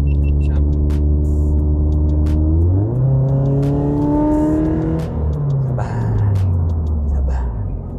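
A 2016 Toyota GT86 accelerates on a toll road, its steady engine drone rising in pitch as it revs up mid-clip before settling back, heard continuously from inside the car.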